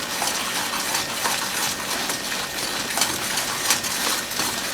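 A spoon stirs mustard into a sauce for German eggs in mustard sauce, making loud, continuous clinking and scraping against the pan or bowl with no talking.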